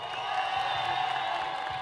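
Crowd at a jaripeo bull-riding event in Florida applauding and cheering for a finalist rider and ranch, a continuous wash of clapping and whoops heard from a distance, with faint voices mixed in.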